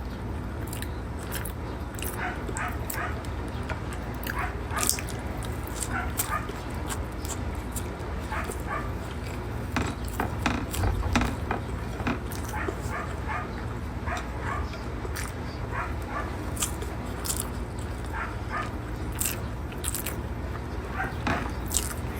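A meal of rice, egg and dried fish is eaten up close, with continuous crunching and chewing sounds and dense small clicks throughout, steady and fairly loud, no talking.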